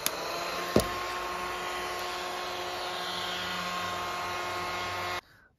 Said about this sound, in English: the vacuum just doesn't have the power to vacuum the little tiny particles